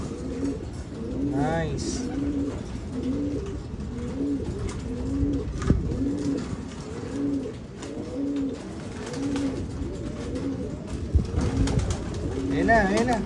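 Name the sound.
pigeons cooing as a pigeon chick hatches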